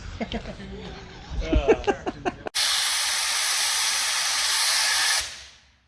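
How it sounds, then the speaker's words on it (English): A mine locomotive at the Pioneer Tunnel coal mine in Ashland, Pennsylvania blows off steam in a loud, steady, close hiss lasting about three seconds before cutting off, following a stretch of chatter and laughter. "There's the Loki blowing off steam."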